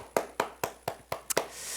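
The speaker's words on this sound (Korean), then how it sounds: "우리 하나님께 영광의 박수 올려 드리십시다" Hands clap at a children's Sunday school church service, six sharp claps in an even rhythm, the last two coming close together, close and clear with nothing else over them.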